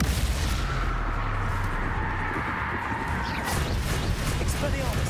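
Bombarda explosion spell in Hogwarts Legacy combat, loud booming blasts and crashes amid continuous battle noise, with voices talking over it.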